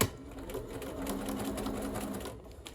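Sewing machine running a narrow 1/8 inch seam with the needle moved to the edge: steady close continuous whirring stitch, alone without voices.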